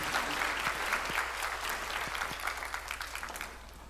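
Audience applause fills a hall at an insurance brokers' mid-year workshop, a steady wash of many hands clapping at moderate loudness that holds for several seconds before easing slightly, with no talk over it.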